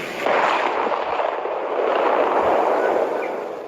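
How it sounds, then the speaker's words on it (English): A recorded blast from an underwater volcanic eruption, as heard in Fiji, comes through as a sustained, loud, rumbling roar with crackling bursts, steady for several seconds before easing slightly. "So that was the sound of the blast heard in Fiji."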